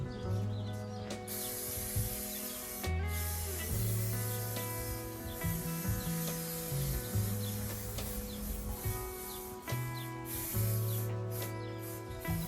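Spray adhesive hisses from a can onto upholstery for the rear columns of a camper van. Steady bursts of spray run through the clip over background music.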